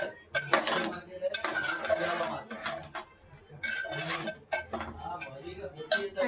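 Crabs drop into a pot of thick masala gravy, giving a series of clattering metallic knocks and scrapes against the pan, close and irregular, with a few sharper clinks.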